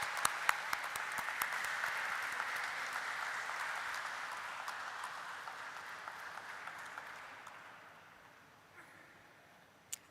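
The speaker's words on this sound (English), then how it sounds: "Can we welcome him on stage with a huge round of applause" Audience applause welcoming a promoter onto the stage at a company listing ceremony, dense clapping that holds steady and then gradually fades toward the end, with a few sharper claps near the front.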